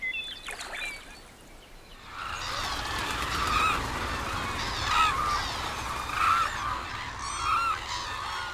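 Wild geese on the Yangtze River give several nasal honks at moderate distance, spaced a second or so apart, over a soft, steady outdoor wash.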